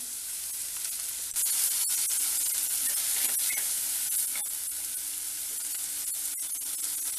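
Steady loud sizzling of tomatoes sautéing in a hot pan, continuous hiss with occasional crackles and stirring clicks, close up, no talking.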